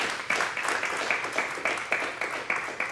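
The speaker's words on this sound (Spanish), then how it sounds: "Denle un aplauso, denle un aplauso al Señor" A church congregation applauds in praise at a service, a dense, steady patter of many hands with light rhythmic accents, moderately close and continuous, with no voices clearly on top.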